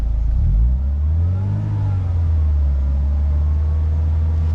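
Manual car engine revved to about 2000 rpm, rising from idle into a steady held drone, loud and close, with no talking over it.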